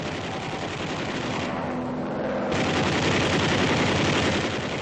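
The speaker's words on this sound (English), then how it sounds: "The waste guns use 50 caliber incendiaries to start fires" Waist guns on a B-24 bomber firing .50 caliber incendiary rounds, a loud continuous roar of rapid gunfire blended with engine drone, with no voices.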